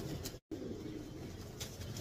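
Pet pigeons cooing in their cage in rainy early-winter weather, soft low throaty coos repeating close by against a steady background hum, with one brief dropout near the start.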